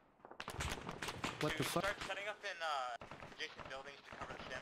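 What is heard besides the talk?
gunfire in a video game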